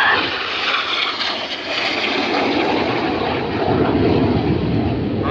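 Red Arrows Hawk jets flying the carousel display manoeuvre at the Dunsfold 2016 airshow, a loud, steady jet engine roar that swells and holds throughout without speech.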